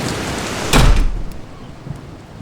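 Steady heavy rain hisses throughout, broken early by a short, loud, low crack like nearby thunder that fades into the downpour.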